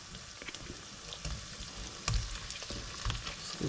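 Meat chunks frying in onions for Aliya make a steady sizzle, with soft scraping stirs and a few louder bumps as the pieces settle in the pan.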